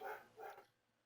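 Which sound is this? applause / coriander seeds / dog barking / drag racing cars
dog barking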